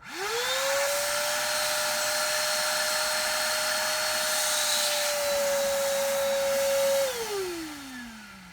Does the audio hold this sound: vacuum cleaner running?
yes